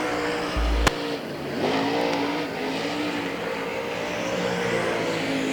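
A dirt-track race car at Hagerstown Speedway roars around a lap, a continuous loud engine drone with rising and falling pitch as it accelerates and passes, heard from a distance across the open track.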